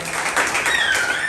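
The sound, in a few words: round of applause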